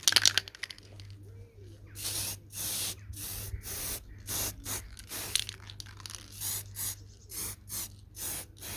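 Blue spray paint hisses from an old aerosol can in short repeated bursts, about a dozen loud sprays with brief gaps between them, over a steady low hum in a shed while primer goes onto a vintage socket set.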